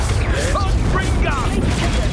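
A Confringo blasting spell goes off in the video game Hogwarts Legacy, giving a few low, loud thuds and bursts over about two seconds, mixed with other game sounds and a voice calling out.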